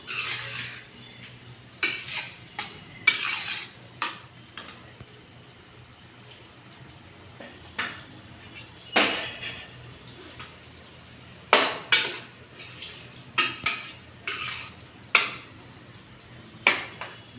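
Rice simmering in jaggery syrup in a pot on the stove, a spoon scraping and clinking against the metal in scattered bursts, some quick and clustered, with quiet gaps between.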